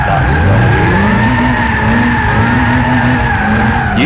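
Car drifting in Gran Turismo 6, a continuous loud tyre squeal over a high-revving engine held in a higher gear, sustained without a break for several seconds.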